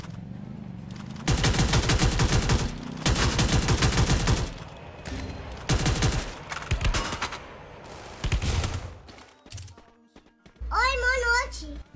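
Rapid bursts of automatic gunfire in a live-streamed video game rattle in several loud volleys with short gaps between them, while a young-sounding player talks in between.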